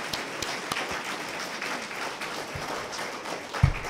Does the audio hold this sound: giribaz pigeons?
no